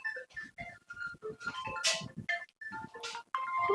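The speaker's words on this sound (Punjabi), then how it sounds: "ਪਤਾ ਨਹੀਂ ਕਿਹਦਾ ਫੋਨ ਆ ਗਿਆ" A mobile phone ringtone plays a melodic tune of repeating electronic tones with short pauses between phrases. It sounds fairly close and clear, with no talk over it.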